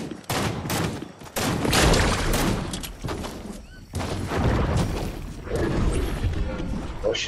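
Gunfire in the Fortnite video game, with rapid bursts and sharp sniper-style shots cracking loudly in clusters, brief gaps between volleys, while players talk over the action.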